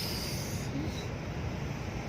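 Steady, loud rumble and broadband road noise from inside a moving bus on a trip from Makassar to Toraja, continuous without breaks.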